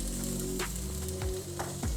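A steady loud sizzle of vegetables hitting a hot dry pan, with a few scraping stirs breaking through the constant crackle.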